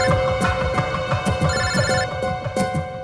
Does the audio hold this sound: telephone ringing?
yes